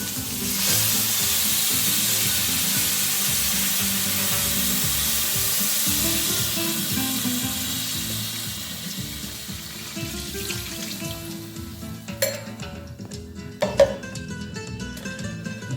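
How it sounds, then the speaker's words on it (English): Stock pours into a paella pan holding rice and sofrito, a loud sizzling rush up close that slowly settles to a calmer bubbling simmer, with a few light clinks near the end. "so now I'm going to add the stock. Slowly add it in there, and turn your heat down to low."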